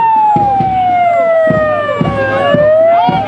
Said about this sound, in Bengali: দমকল, অ্যাম্বুলেন্স সবাই এই প্যারেড মার্চআপে অংশ নিয়েছে